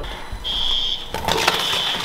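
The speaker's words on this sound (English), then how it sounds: "Someone has set off the fire alarm in quarantine." Fire alarm sounding in student quarantine housing at a university, a loud sustained high-pitched electronic tone that keeps going, joined by rustling and handling noise partway through.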